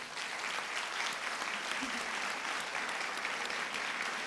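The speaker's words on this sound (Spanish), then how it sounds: "te vamos a mandar este aplauso desde Gran Canaria" Steady audience applause at a Gran Canaria event, dense and even throughout with no voices over it.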